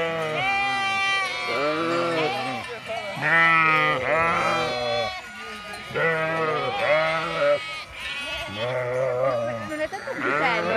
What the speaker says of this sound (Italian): C'è anche un capretto.